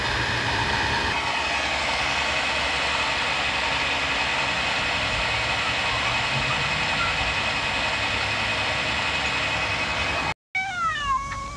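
An alternator converted to run as a motor spins steadily during an RPM test, giving a loud, continuous high-pitched whine with a ringing tone that holds evenly and then cuts off abruptly near the end.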